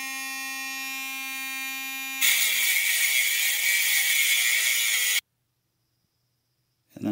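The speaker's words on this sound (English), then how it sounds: "I just cut it to length using this Dremel-like tool." A Dremel-style rotary tool cuts a 1/8-inch steel rod, first a steady high whine, then a loud, harsh broadband grinding buzz for about three seconds as it bites into the metal, stopping abruptly into silence.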